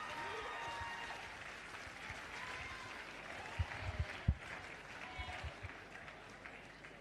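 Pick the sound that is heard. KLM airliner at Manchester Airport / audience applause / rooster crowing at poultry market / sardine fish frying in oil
audience applause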